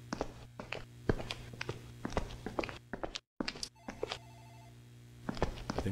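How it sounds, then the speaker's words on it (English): An office telephone rings in a horror video game with several sharp bell bursts, heard alongside footsteps and thunks that stop briefly in a short silent gap. "I think that's the phone in the office rings."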